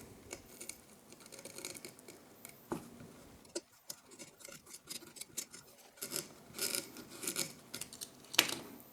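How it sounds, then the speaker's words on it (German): A utility knife drawn along an edge while making a DIY 3D key holder insert, giving faint, intermittent scraping and rasping strokes, close up, with short pauses between cuts and no talk. "Jetzt nehme ich mir so ein Cuttermesser und werde hier an der Kante entlang schneiden."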